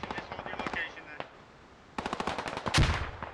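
Machine gun fire in the Squad video game: two rapid bursts of automatic shots, the second sharper and closer, ending in a louder blast.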